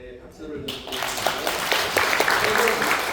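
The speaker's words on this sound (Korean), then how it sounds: "박수를 드리겠습니다" After a quiet moment, applause breaks out from the audience at a Korean political lecture, a crowd clapping that swells in and continues steadily.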